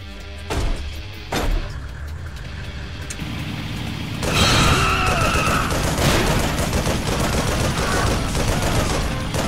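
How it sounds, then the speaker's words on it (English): Turret gun firing during an on-rails section of the Yakuza: Dead Souls video game, a few sharp shots giving way to continuous dense rapid fire under a steady engine-like rumble, loud and close. "if you said this game needed an on-rails turret section, you're in luck"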